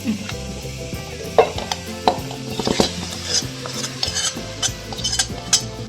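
Cooked split chickpeas, yam and raw plantain being stirred together in a pot for a Kerala erissery, with close, repeated spoon clinks and scrapes against metal and soft, wet mixing sounds.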